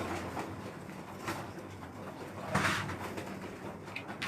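Pigeons kept in a breeding loft coo softly at middling distance, with a few louder bursts of noise and faint background hum, no speech.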